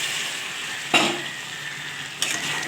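Poppy seed paste hits a hot pan, giving a steady close sizzle with two sharp scraping stirs of a spatula, no one talking.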